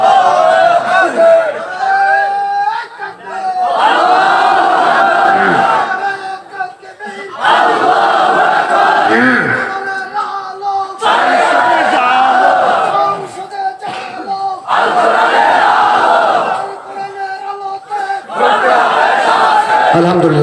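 Crowd at a Bangladeshi Islamic religious gathering chanting takbir in loud, repeated call-and-response bursts, several swelling waves of many voices separated by brief pauses.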